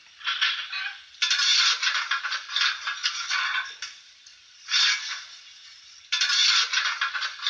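A Zimo MX658 sound decoder in a Graham Farish Stanier 8F model steam locomotive plays coal being shovelled into the firebox: loud, gritty scraping rattles in repeated bursts separated by short pauses.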